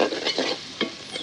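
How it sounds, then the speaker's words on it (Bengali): Onions fry in hot oil, a close sizzle punctuated by several quick stirring scrapes. "তেল গরম হয়ে গেলে পেঁয়াজ দিয়ে দিলাম।"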